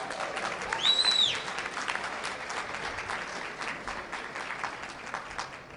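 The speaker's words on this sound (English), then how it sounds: "Let's give Detective Wise another round of applause." Audience applause for a detective at a recognition ceremony, a steady crowd of clapping hands with a short whistle early on, continuing evenly throughout.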